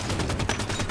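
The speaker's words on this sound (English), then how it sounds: "kill you with the assault rifle" Assault rifle fire in the Halo 5 video game, a rapid stream of closely spaced shots filling the whole short burst at steady loudness.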